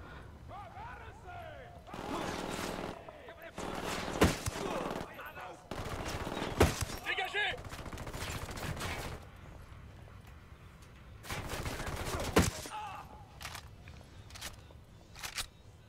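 Bursts of automatic gunfire crackle in the Ghost Recon Wildlands video game, several rapid volleys separated by quieter gaps, with someone talking in between.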